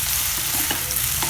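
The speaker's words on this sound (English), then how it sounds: "add in the sliced muthia pieces to it and stir fry them for a couple of minutes" Sliced steamed muthia pieces stir fried in a pan, with a dense, loud, continuous sizzle and the scrape of a spatula turning them, close up.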